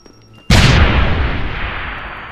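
A single loud blast from an explosion in the video game Deus Ex: Human Revolution bursts out suddenly and then rolls into a long, rumbling decay that fades slowly, with no voices over it.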